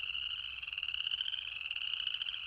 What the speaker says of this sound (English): it's the tiny chorus frog, barely the size of a quarter.